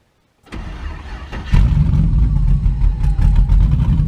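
A car engine starts up and settles into a loud, steady idle with a low, slightly uneven throb and occasional clicks; the engine has idle problems.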